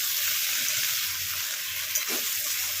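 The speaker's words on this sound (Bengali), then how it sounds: "সবগুলো ভালো করে ভাজবো, কম তেলে অথচ সুন্দর ভাজা হবে।" Diced potatoes and pointed gourd frying in a little oil in a pan, a constant soft crackling sizzle with faint low stirring knocks underneath.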